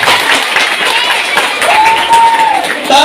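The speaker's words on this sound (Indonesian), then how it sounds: "Tepuk tangan dulu" Audience at a Maulid Nabi lecture in a school field at MTsN 4 Padang breaks into sustained applause, a dense wash of many hands clapping with crowd noise, steady and fairly loud for a few seconds.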